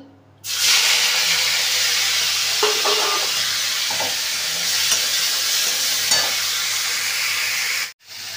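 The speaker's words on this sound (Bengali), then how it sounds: "কড়াইতে তেল দিয়ে দিয়েছি, তেলটা গরম হয়ে গেছে। এবার চিংড়ি মাছটাকে ভেজে নেব।" Shrimp sizzles loudly in hot oil in a wok with a continuous bright hiss, a few clinks from stirring, then the sizzling cuts off abruptly near the end.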